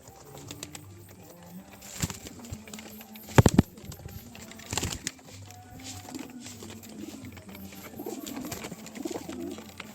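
Pigeons kept indoors during the rainy season coo repeatedly in a low, throaty murmur across the clip, with a few sharp taps and bumps, including a loud knock near the middle.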